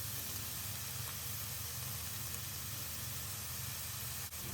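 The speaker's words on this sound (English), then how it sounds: "Then rice is dry, put 4 tablespoons soy sauce" Soy sauce, four tablespoons, hits dry fried rice in a hot pan, giving a faint, steady sizzle and hiss that runs evenly throughout with no talking.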